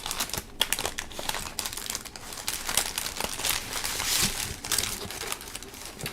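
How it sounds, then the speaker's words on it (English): Crinkly paper being crumpled and rustled up close during origami handling, a busy stream of crackling and crinkling bursts with no talking. "Dog loves the crinkly sound."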